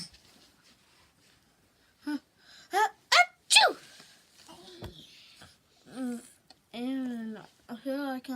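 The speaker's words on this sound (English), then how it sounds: "I can't stop sneezing." Someone sneezes several times in quick, close bursts after a quiet start, and talks briefly between and after the sneezes.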